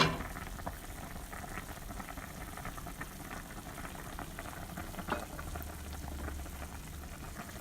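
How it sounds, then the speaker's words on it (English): Salmon sour soup bubbles in a covered pot, a soft continuous simmering hiss with small pops and crackles, fairly quiet and close, with no voices. "It's been boiling for about 6 or 7 minutes."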